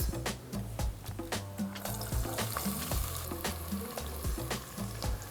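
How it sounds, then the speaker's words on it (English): Onions and bay leaves brown in hot oil with whole spices for a Bangladeshi mutton rezala, sizzling steadily while a spoon scrapes and knocks against the pan in repeated stirs. "add some of your bay leaves and then start browning your onions."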